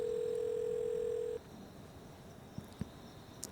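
A steady telephone dial tone hums loudly for over a second and then cuts off, followed by a few faint clicks of a phone being handled, with no speech.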